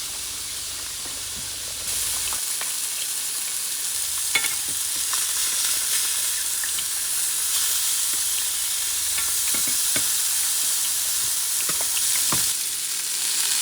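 Burger patties sizzle on a hot cooking surface with a steady, loud frying hiss, broken by a few faint clicks and scrapes, and no talking.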